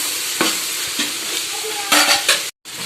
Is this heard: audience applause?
no